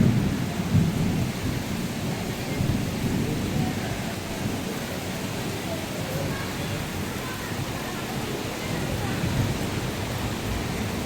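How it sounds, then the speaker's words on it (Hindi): Steady rain and rumbling thunder from a storm near a beach in Pondicherry, a continuous dense wash of rainfall with low rolling thunder throughout, fairly loud and with no talking. "गजब सा तूफान आया पड़ा है"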